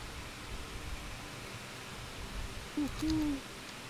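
A person hiding behind a bush in the game Medieval Dynasty imitates an owl's hoot, giving one short rising call followed by a longer steady hoot, faint and alone over a soft hiss of background noise.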